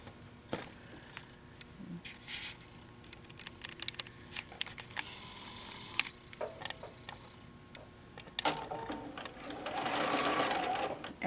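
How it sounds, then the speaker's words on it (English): A sewing machine makes a few tack stitches across a happy-go-lucky quilt. The stitching comes as short, light mechanical patter. A louder, denser whirr of stitching follows near the end, close to the machine and with no talk over it. "And we're just going to stitch across."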